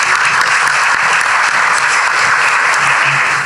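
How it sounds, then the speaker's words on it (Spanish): Strong audience applause for a professor at a constitutional law lecture, loud sustained clapping from a full hall, dense and even from start to finish. "Un fuerte aplauso para el profesor"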